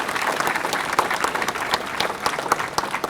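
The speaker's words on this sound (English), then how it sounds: "Kindly welcome them with a large applause to show the respect that we have" An audience at a university Independence Day celebration applauds military officers, a dense continuous clapping from many hands that stays loud throughout.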